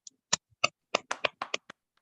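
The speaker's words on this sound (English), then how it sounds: "So a round of applause for both Dr. Akinola and Dr. Adebowale for making it time today." A handful of sharp claps ring out one after another in a quiet room, about ten separate slaps from only a few hands, sparse and uneven rather than a full crowd applauding.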